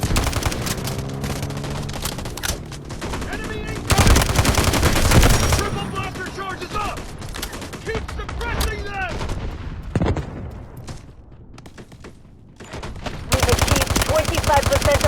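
Machine gun fire in the Delta Force video game: loud sustained automatic bursts, with sharp shots coming and going between quieter gaps, mixed with radio-like game chatter and battle noise.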